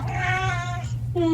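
A male house cat meows in a drawn-out, talking-like cry, then gives a shorter second call, close and clear with no one speaking over it.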